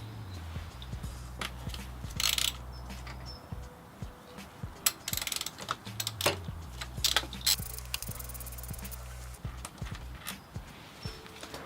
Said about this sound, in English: Once you start to remove this bolt,